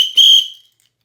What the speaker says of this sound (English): We will take this thing out here and we will give it a blow real quick. So here is this whistle.